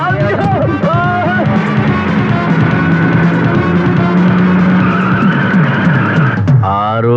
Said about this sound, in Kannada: ಇವಾಗ ಗಾಡಿ ನಿಲ್ಸಿ